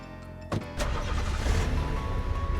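A car engine in the zombie survival video game Darkest Days turns over after a couple of brief clicks, then settles into a steady, close, loud rumble as the vehicle drives off.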